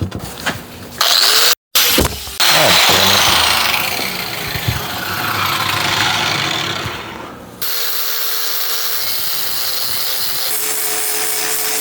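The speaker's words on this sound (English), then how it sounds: "So we're just gonna grind all this down, and we're gonna do the same with the case." A grinder works over the surfaces of a Ford Explorer 8.8 differential case, a steady close, loud abrasive whine with shifting pitch that drops to a lower, even drone partway through.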